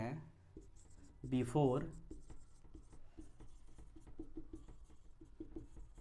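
Chalk or pen writing on a board during a physics lesson on conservation of momentum, faint quick scratchy strokes in a steady patter, under a man's explanatory speech.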